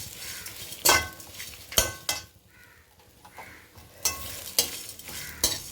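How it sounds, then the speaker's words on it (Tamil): Vallarai (Indian pennywort) greens are stirred in a pan over a low flame, soft sizzling broken by several sharp clinks and scrapes of a utensil against the vessel at irregular intervals. "இதை வந்து கொஞ்சம் சுருங்கி வர மாதிரி வதக்கிக்கலாம்."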